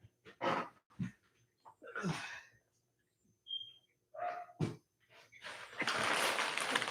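A dog indoors barks in short separate bursts between quiet gaps, close and moderately loud, with breathy snuffling sounds and a rustling noise building toward the end.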